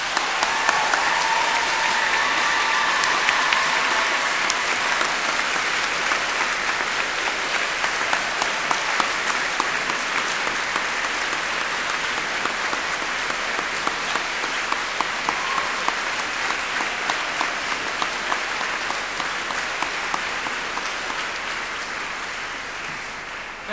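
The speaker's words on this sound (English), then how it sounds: "giving them an enthusiastic round of warm applause" A large graduation ceremony audience in a university hall gives a long, sustained round of applause, a dense even roar of many hands that holds steady for over twenty seconds before tapering slightly.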